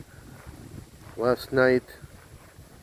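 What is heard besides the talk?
wind blowing on microphone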